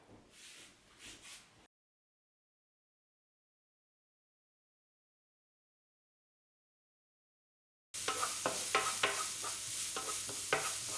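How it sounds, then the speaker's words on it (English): Chopped onion sizzles and crackles in a little oil in a skillet, heard close and steady with stirring scrapes, after a brief sizzle at the start and a long stretch of silence. "now we take about 3/4 of the onion and start frying it. Pour a little oil into a skillet."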